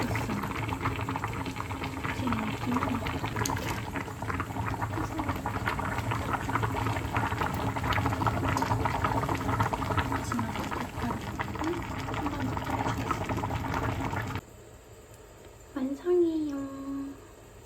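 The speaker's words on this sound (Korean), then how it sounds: "양념에 넣고 한 조금 더 끓여줄 겁니다" Seasoning sauce bubbling in a pot, with a dense, continuous close boil and popping for most of the stretch. It stops abruptly near the end, followed by a brief voice in quiet surroundings.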